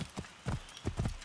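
A horse gallops in the video game Assassin's Creed Origins, its hoofbeats landing in quick, uneven clusters of dull, close clip-clops over a short stretch.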